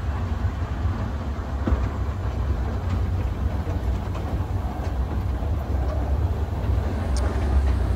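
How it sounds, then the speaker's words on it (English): The Selfkant steam train rolls along its line in springtime countryside, a steady rumble with rhythmic clickety-clack of wheels on track joints, close and continuous throughout. "So the train ride is going on."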